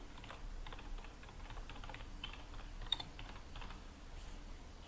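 Fingers type on a computer keyboard, making faint, close clicks in an uneven, steady patter with no voice over them.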